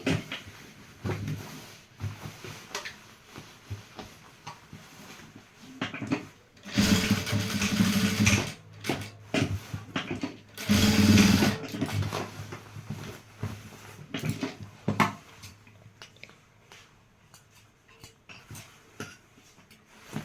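A sewing machine stitches a zipper onto a dress, making a close mechanical whir in two bursts with clicks and handling sounds in between and no speech.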